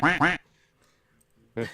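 A duck quack sound effect plays twice in quick succession, loud and nasal, then a third quack begins after a short pause.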